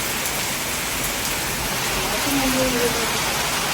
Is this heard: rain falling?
yes